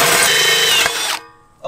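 A power drill fitted with a new bit bores a hole while building a DIY skatepark, a loud close whine with steady grinding for about a second before it cuts off, then a brief restart.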